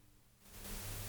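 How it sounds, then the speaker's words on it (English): Tape hiss from a Nebula tape machine plugin running in Reaper, a steady broadband static that starts faint and swells to a louder, brighter wash within a second, with no other sound. "let's have a look at the hiss now"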